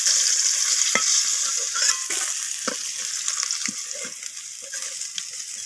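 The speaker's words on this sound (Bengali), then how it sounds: "তো মাছগুলোকে আমি লালচে করে দু পিঠ মাছে ভেজে নেব।" Rohu fish frying in hot oil, a steady loud sizzle with occasional stirring knocks and spatters, no voices.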